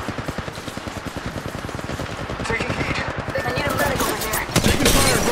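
Rapid automatic weapon fire in the battle royale game Apex Legends, a dense, loud stream of evenly spaced shots that grows heavier and more chaotic toward the end, with no voices.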